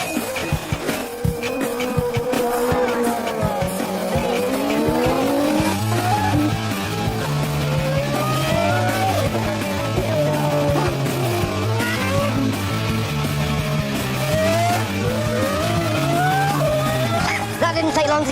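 A racing car, likened to a Formula 3000 machine, is driven hard around a track, its engine rising and falling through gear changes while tyres squeal, loud and continuous, with someone talking over it.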